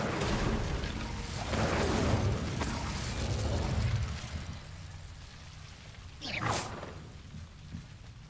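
A fire spell is cast in Hogwarts Legacy with a rushing burst of flame, backed by a steady noisy crackle, and a sharp whooshing flare flashes again near the end.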